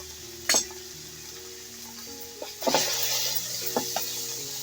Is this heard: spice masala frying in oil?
yes